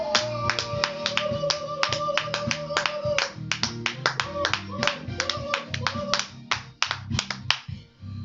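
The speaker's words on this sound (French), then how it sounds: "Dans le nom de Jésus, si tu crois à toutes ces choses, nous allons acclamer Jésus" A church congregation at a midnight women's prayer meeting claps to acclaim Jesus, sharp hand claps close and loud in a quick, uneven rhythm throughout, with a steady background beneath.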